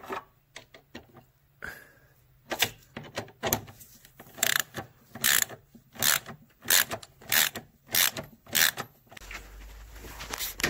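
A ratchet works on 10 millimeter bolts holding the rack and pinion of a 2002 Chrysler 300M, giving a series of rhythmic clicking, rasping strokes at close range, steady and regular.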